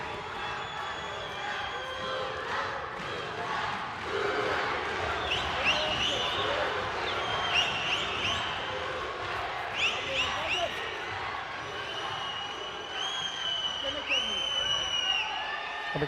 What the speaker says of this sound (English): You can hear the crowd are right behind that.